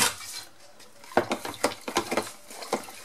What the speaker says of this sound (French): Je mélange bien mon eau.